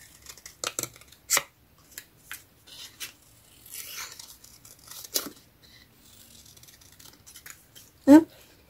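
Scissors snip through paper offcuts for a handmade card, giving a few scattered crisp cuts and rustles with quiet gaps, then one sharper, louder snip near the end.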